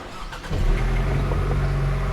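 A Ford Mustang engine rumbles deeply and steadily up close, its low growl swelling just after the start and holding strong with no voices over it.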